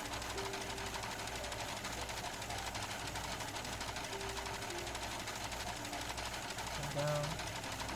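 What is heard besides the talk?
sewing machine stitching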